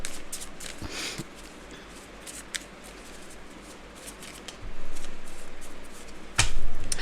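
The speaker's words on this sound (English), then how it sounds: "We'll just keep shuffling then." Playing cards shuffled close by in several riffled bursts, with soft flicks and taps between louder rustling passages, no talk.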